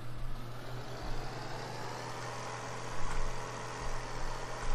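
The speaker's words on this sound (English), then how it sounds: "I'm hoping this tractor can actually cope with this." Tractor engine running in a farming video game, a steady mid-pitched rumble with a low hum and slight surges, alone without talk.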